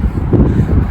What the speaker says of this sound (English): It's just windy, chilly wind.